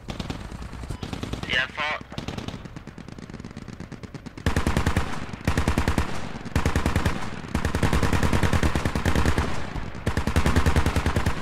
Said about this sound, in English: Taking fire over here. Yeah, I'm taking fire.